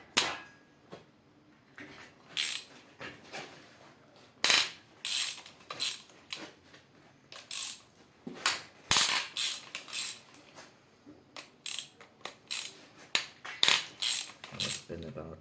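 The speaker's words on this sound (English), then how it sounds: "I think now it's time to loosen the head bolts" Wrench clicks and metallic clinks while loosening the head bolts on a Yamaha XJ 750 (41Y) engine during top-end disassembly, a series of sharp close ratchet-like bursts spread over the whole stretch, no talking.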